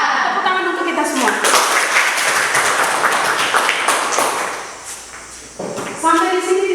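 Students in a high school maths classroom clap together in a burst of brisk, dense applause lasting a few seconds, with a teacher's voice heard before and after.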